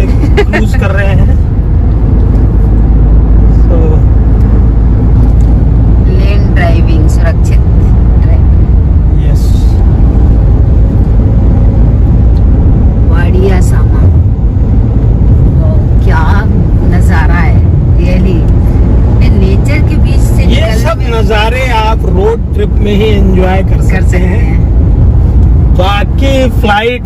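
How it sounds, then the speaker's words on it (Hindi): A Mahindra XUV cruises down a highway at over 100 km/h, filling the cabin with a loud, steady low road-and-engine rumble and wind roar that continues unbroken throughout, with voices faintly present. "अभी थोड़ा सा ट्रैफिक भी कम है और हमारी गाड़ी की स्पीड 107 और हम 100 से ऊपर चल रहे हैं"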